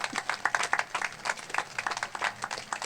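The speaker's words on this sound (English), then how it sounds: "So I think they deserve a round of applause." An audience claps at a 4th of July Let Freedom Ring ceremony, dense, evenly paced clapping from a crowd, moderately loud and steady throughout the short stretch.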